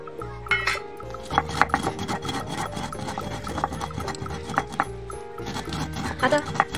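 Ground coriander paste is scraped off a grinding stone and onto a plate, producing a dense run of rough rubbing, rasping strokes with light metallic clinks, close and fairly loud throughout.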